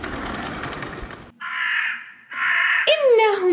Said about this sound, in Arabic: إنهم غربان.